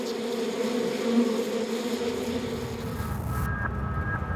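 A dense, steady buzzing of many honeybees defending their hive fills the air, droning continuously up close before thinning toward the end.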